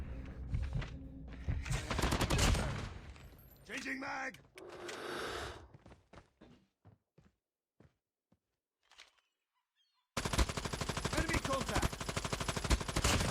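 Call of Duty gunfire comes in bursts of rapid, loud shots near the start, then scattered single cracks thin out into near silence before a dense, steady stream of automatic fire resumes at the end, with excited talk mixed in.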